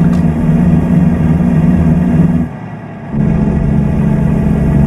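In American Truck Simulator, a Volvo VNL 670 with a 600-horsepower Cummins engine drones loudly and steadily with the cab window open, easing off briefly in the middle before pulling again.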